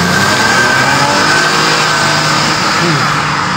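A Lexus LC 500h hybrid coupe with 400 horsepower revving hard, a loud continuous engine roar heard close from inside or beside the car as it pulls, with no pauses.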